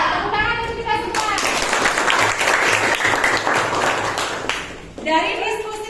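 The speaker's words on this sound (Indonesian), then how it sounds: "Tepuk tangan untuk kita semua." Students in a classroom clap together for about four seconds, a loud dense burst of applause between stretches of a teacher speaking before and after.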